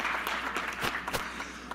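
Audience applause at a Greek program meeting, a steady wash of clapping hands filling the short stretch with no voices over it.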